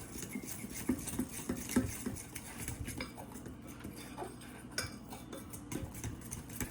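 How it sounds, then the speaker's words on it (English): A fork whisking in a bowl for a pound cake batter, steady quick scraping and tapping of metal against the bowl, soft and continuous with no talking. "If you have a little mini whisk, this would be a perfect time for it, but I don't, so I use a fork."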